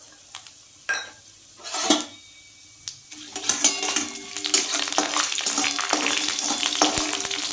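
Three dry red chillies and a spoonful of panch phoron hit hot oil with a few spoon clatters, then a steady crackling sizzle builds and holds, close and clear.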